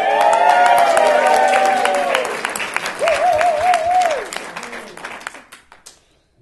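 Wedding guests break into loud, sustained clapping, with cheers and whoops rising over it. The applause gradually thins out and fades away.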